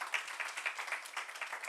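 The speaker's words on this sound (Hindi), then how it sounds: "एक बार जोरदार तालियां बजाएं" Audience at a religious gathering applauding, a brief burst of lively clapping from a small-to-medium crowd with rapid, uneven claps.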